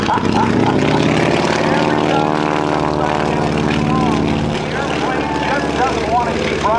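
The propeller engine of an aerobatic airplane at a naval air station airshow sputters and restarts in flight while the plane is inverted. It sounds as a loud, buzzing drone that shifts in pitch, with an announcer's voice running over it.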